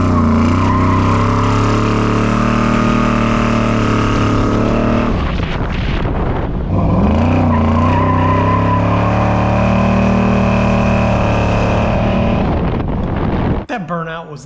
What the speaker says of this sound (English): we're gonna do a burnout